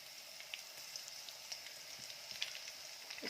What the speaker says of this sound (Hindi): और ये कुटा हुआ थोड़ा सा लहसुन डाल देंगे।